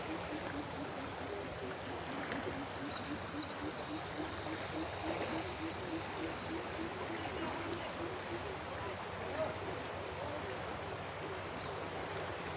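Fast floodwater surges across the Sylhet–Salutikar road as villages flood, a steady broadband rushing wash that stays loud and continuous throughout, with no voices over it.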